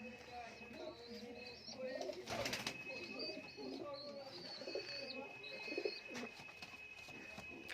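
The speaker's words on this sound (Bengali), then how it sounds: "লিটনের বাড়ির পায়রা" Lotan pigeons cooing in a loft, soft repeated coos and bird calls at moderate distance, with a person talking over them and a steady background hum.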